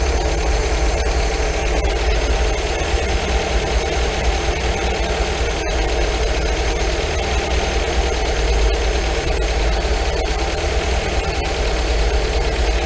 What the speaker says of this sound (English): The revs just pick up and then just drop back down again very gently